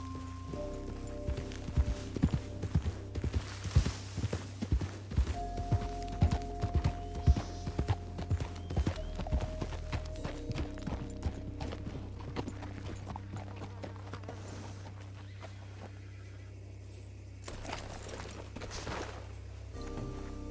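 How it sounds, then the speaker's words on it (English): Horse hooves clip-clop steadily in the Red Dead RP game world, a moderately near, rhythmic trot of irregular beats lasting throughout, with faint background ambience and no talk. "I just see a horse."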